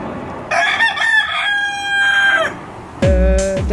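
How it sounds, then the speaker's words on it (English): A cockerel crows loudly and close by in a long, drawn-out call, then a second crow starts just after a brief pause. "And I have bought another cockerel,"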